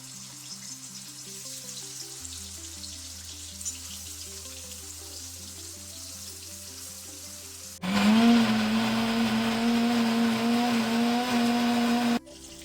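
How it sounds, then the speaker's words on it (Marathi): Soft music plays, then a mixer grinder roars in loudly with a whining motor hum, grinding a spice paste for about four seconds before stopping abruptly. "वाटण थंड झालेलं आहे. मी वाटून घेते आता."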